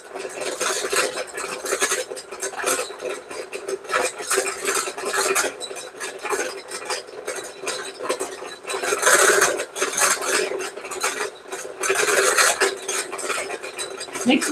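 A Bernina sewing machine stitches a quilt block with a fast, steady mechanical clatter and whirring, running continuously close by with slight surges in speed and no speech.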